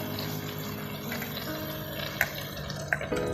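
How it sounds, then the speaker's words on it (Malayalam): Strained jaggery syrup pours into a pan for pumpkin payasam, a steady close trickling flow with a couple of small clinks near the end. "ഇപ്പോൾ ഞാൻ ശർക്കര അരിച്ച് ഒഴിച്ചു കൊടുക്കുന്നുണ്ട്."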